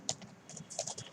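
Computer keyboard keys tapped in short, uneven bursts while code is typed, sharp clicks that are moderately close and fairly quiet, with no voices.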